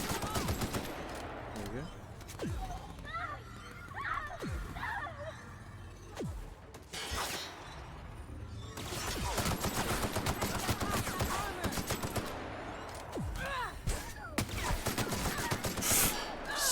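Gunfire from a weapon in the video game The Outer Worlds crackles in scattered sharp bursts and volleys across the stretch, with someone talking and reacting over the shots.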